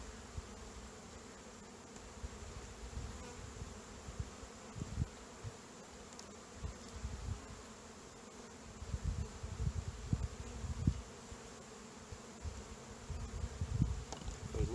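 Honey bees buzz around an open hive during a varroa mite check, a faint, continuous low hum with occasional louder passes as individual bees fly near.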